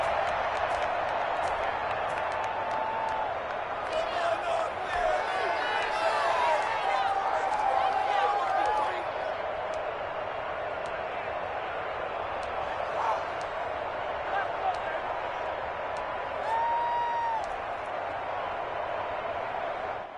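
A stadium crowd at a football game keeps up a loud, sustained roar and cheer through a tense late-game timeout, with whistles and scattered shouts rising through it and an announcer talking over the din.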